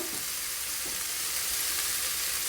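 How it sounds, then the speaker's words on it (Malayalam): Masala dosa filling seasoned with chilli powder and salt sizzles in a pan as it is stirred, a dense, steady hiss close by for a brief stretch with no voices. "നല്ലതുപോലെ ഒന്ന് ഇളക്കുക"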